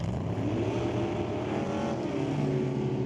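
Drag race cars, a white 1967 Camaro and an S10, roar loudly off the start line at an NHRA Super Street race, a dense, sustained engine drone with no talk over it.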